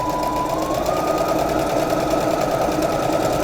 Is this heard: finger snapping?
no